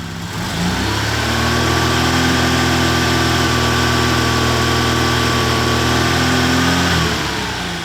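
A car engine, under a battery and charging-system test, is revved and held steady at about 2,500 rpm for several seconds as a loud, even drone, then drops back toward idle at the end.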